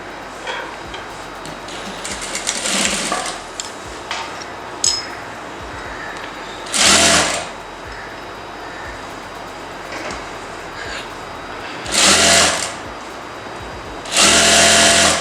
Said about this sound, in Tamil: ஓகே, இப்போ இதுக்கு மேலே ஒரு தையல் போட்டுடலாம்.